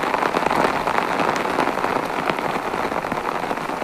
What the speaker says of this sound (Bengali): বৃষ্টিটা ভালোই জোরে পড়ছে